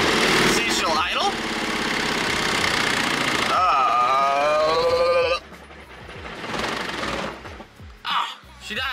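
An LS-swapped Edge-generation Ford Mustang V8 engine idles with a loud, rough, pulsing drone, then falls off abruptly midway, leaving weaker uneven sputters afterward.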